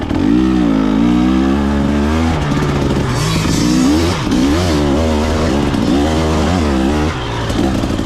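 A 2024 KTM 300 XC-W two-stroke enduro motorcycle engine revs hard and loud up close in second gear, pitch rising and falling through repeated throttle bursts with a brief dip near the end.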